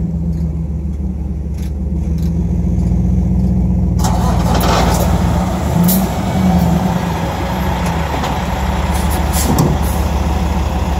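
A Dodge Ram pickup with a Hemi engine rumbles loudly and close by. A steady deep throb holds throughout, and a broader roar with some rattling joins in about a third of the way through.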